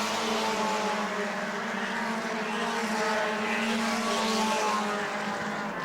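Bomber class race cars at New Smyrna roaring around the track in a pack, a dense layered engine howl rising and falling slightly as cars pass, sustained and fairly loud throughout.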